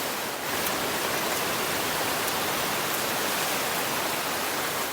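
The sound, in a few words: waterfall rushing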